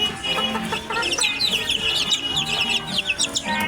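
Several chickens cluck and chirp together nearby in a busy, continuous flock chatter, with no talking.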